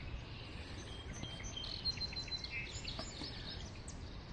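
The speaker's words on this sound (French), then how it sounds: "You hear the birds." Birds sing and chirp faintly across a spring marsh on Île Saint-Bernard, their scattered calls heard from a distance over a steady low outdoor rumble.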